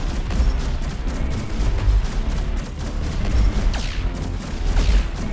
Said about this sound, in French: Là vous entendez que ça commence à devenir le bordel quand vous avez un peu des tourelles de tous les types.